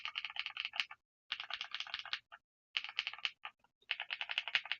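Typing on a Nuphy Halo65 HE keyboard with Gateron Jade Pro switches, quick bursts of close clicky keystrokes in four short runs separated by brief pauses.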